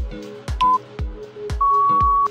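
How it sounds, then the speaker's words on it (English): Two electronic beeps, a short one then a longer held tone, sound over rhythmic thumping music, close and clear. "when you hear the final beep, let's take a rest"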